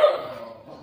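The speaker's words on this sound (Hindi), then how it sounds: "मेरे पीछे वाला भौंक रहा है" A street dog on a lane gives one short, sharp bark at the start, followed by a fading tail of faint background noise.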